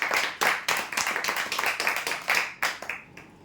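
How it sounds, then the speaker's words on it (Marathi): A small gathering claps at a weekly prize-draw event as a winner of a 4x6 bed is announced, an uneven patter of individual claps that trails off at the end. "जोरदार टाळ्या वगैरेसाठी"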